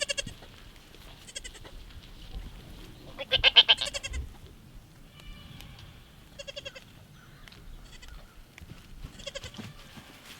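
Several goats bleat near an electric fence, with repeated calls from more than one animal, one loud burst partway through, and other bleats scattered and fainter against a quiet outdoor background.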